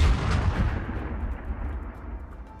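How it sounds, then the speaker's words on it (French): A howitzer cannon fires from a tank as a sound effect: one deep boom at the start with a long, rumbling decay that fades over a few seconds. "Un nouveau tir de l'obusier bascula l'assiette du char en arrière."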